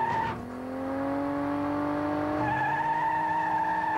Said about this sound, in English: Inside, I'm going to be driving an Indy car, which is a very fast racer.